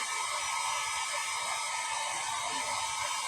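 A steady, loud, whooshing blower drying a dog's fur runs without pause, a constant airy hiss close by.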